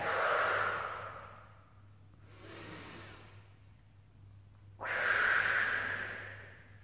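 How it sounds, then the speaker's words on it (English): A person doing a tummy-tightening breathing exercise takes a slow, quiet breath in, then blows the air out in long, breathy exhalations, soft and close with pauses between breaths. "So breathe in and blow all the air out."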